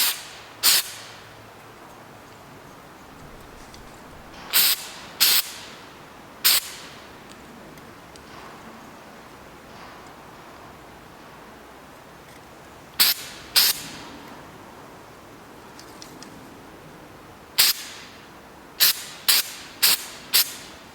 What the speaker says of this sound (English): this is the mass airflow sensor, and we're gonna be very careful in spraying this down